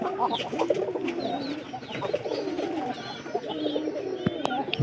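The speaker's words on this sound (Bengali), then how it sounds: "এই যে কবুতরগুলো আছে" Domestic pigeons coo in repeated soft, throaty phrases that overlap close by, with a few sharper bird calls mixed in.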